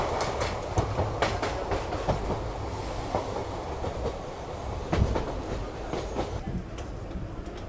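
Passenger train on a rural rail route in Uttar Pradesh, carriage interior with a steady rumble and repeated clickety-clack wheel beats over rail joints, continuous and close throughout.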